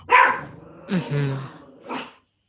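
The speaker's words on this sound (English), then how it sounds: "That's my dog barking." A dog barks indoors during a thunderstorm, a few loud close barks and a drawn-out growling yowl in quick succession, clear and prominent.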